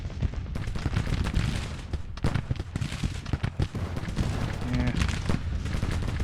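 Civil War artillery fire in the strategy game Grand Tactician, a dense, loud barrage of overlapping booms and crackling volleys rolling continuously, with brief lulls, under faint voices.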